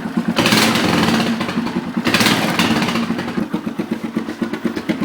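Polaris Sportsman ATV engine with a modified factory exhaust, loud and close, rising in two revving bursts and then settling into a steady, throbbing idle.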